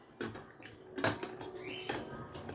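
Cut potatoes mixed by hand in a bowl of ice water, with close splashing, sloshing and knocks against the bowl in irregular bursts.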